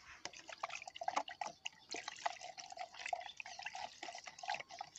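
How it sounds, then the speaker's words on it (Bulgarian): Insecticide solution being stirred with a stick for a first vineyard spraying, giving a steady run of small watery sloshes and drips, close and fairly quiet, with no talk. "Разбърквам с помощта на някаква пръчка."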